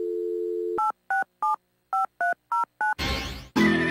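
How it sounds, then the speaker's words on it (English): A phone handset gives a steady dial tone, then seven short, evenly spaced touch-tone beeps dialing 867-5309, followed by a burst of line noise and connection hiss. "What does it sound like when you dial 867-5309?"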